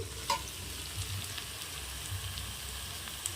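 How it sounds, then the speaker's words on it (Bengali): Onions frying in oil for purda biryani over a wood-fired clay stove, a steady soft crackling sizzle with a faint clink early on. "এইভাবে আমি পেঁয়াজ ভেজে নিয়েছি।"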